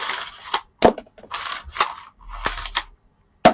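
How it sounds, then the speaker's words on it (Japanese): Cheap dollar-store scissors snipping apart parts of an old rice cooker being disassembled, several sharp close clicks and crunching cuts spaced irregularly, with brief rustling between them and no talk. "ちょっとめんどいので、ハサミで切っちゃいます。"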